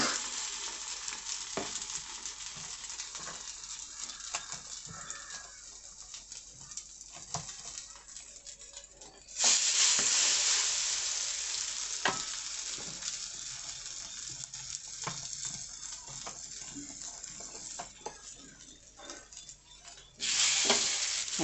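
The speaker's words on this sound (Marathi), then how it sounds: "दुसऱ्या पद्धतीनं हे ब्रेड आणि या बॅटरमध्ये असं बुडवून घ्यायचं व्यवस्थित आणि ते या फ्राय पॅनवर असं घालून घ्यायचं" Bread slices dipped in egg batter are laid into a frying pan for a bread omelette, bringing a steady sizzle and stirring clatter that jumps to a sharp, loud hiss as each slice lands, then settles.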